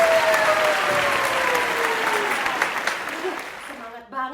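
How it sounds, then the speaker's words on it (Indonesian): Applause at an Indonesian Independence Day children's online service rings out as loud, dense clapping that fades toward the end, with a voice speaking over it. "Kasih tepuk tangan buat ini."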